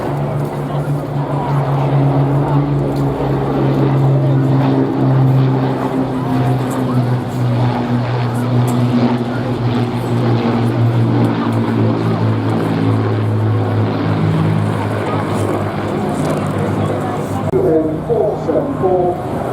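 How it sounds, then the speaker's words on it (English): Vintage Spitfire and ME109 piston aircraft engines roar on approach, a loud, sustained, droning rumble that holds steady throughout without fading. "appreciate the roar of the iconic engines as they make their initial approach to this place we here today"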